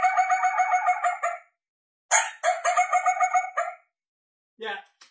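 A female coyote call from a sampled game-call sound pack, with rapid machine-gun cadence. It comes as a quick run of sharp, strained yelps, a second run after a brief gap, then a short broken burst, all loud, close and without talk.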